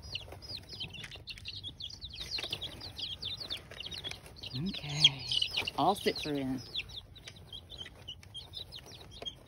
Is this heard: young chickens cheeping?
yes